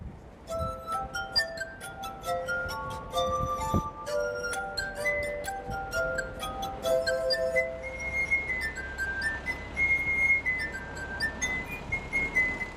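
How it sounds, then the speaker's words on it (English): A Mozart piece played on glass, sustained ringing glass tones forming a slow melody with clear pitched notes and soft overlapping resonances, moderately loud and without talk. "There are only about 3 or 4 of us in the world that play it on glass."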